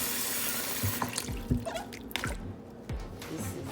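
Water splashing and dripping while abacha, shredded cassava, is washed by hand, with a rush of running water at the start followed by scattered drips and sloshes, close and fairly soft.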